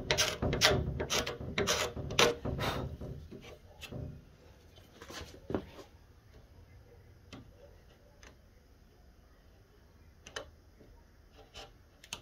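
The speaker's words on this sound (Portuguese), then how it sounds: "Raspando é a melhor maneira aqui" Wood is scraped with a rasp while fitting a door hinge, giving a quick run of close, sharp rasping strokes that thin out to sparse scrapes.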